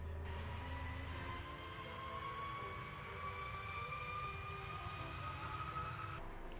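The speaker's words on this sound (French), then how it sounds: "il y a un avion qui passe" An airplane passes overhead outdoors, a loud, steady broadband drone with a slowly rising engine whine that holds through the whole stretch before easing off at the end, with no talking.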